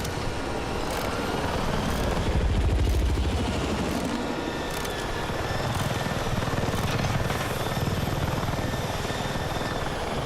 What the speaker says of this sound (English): Oh, he's a friendly chopper.